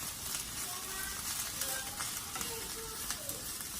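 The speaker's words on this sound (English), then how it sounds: "So I'm just going to stir up the stir fry." Shrimp stir-fry with cauliflower rice sizzles quietly in a pan sprayed with olive oil spray, a low even frying hiss with faint stirring.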